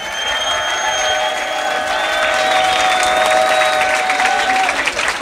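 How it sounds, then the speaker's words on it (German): Berlin battle-rap crowd at a BattleMania Champions League title match applauds two rappers, a dense, loud wash of clapping with scattered whistles and cheers, sustained for several seconds. "die beiden Jungs, bevor es hier zu der Entscheidung kommt, verdienen auf jeden Fall nochmal ordentlich Applaus von euch"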